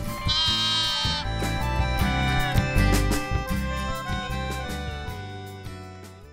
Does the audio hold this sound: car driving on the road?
no